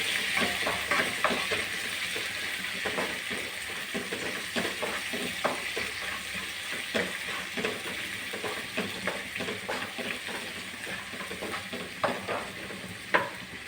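Garlic sautéing in a pan for a Kerala-style kovakka (ivy gourd) stir-fry, a steady close sizzle with frequent scraping stir strokes throughout, no talk.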